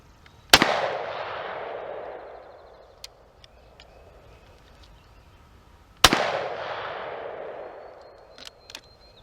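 Two loud shotgun blasts about six seconds apart, each a sharp crack with a long decaying outdoor echo, fired from a shotgun using shells that had been exposed to water.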